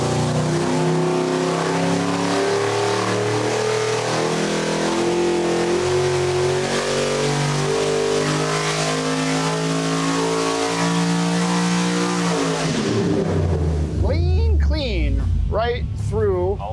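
A 5.3-liter LS crate street engine with full accessory drive, on pump gas, revs hard on a dyno, its loud steady roar climbing in pitch for about twelve seconds before cutting off, followed by people talking over the idle.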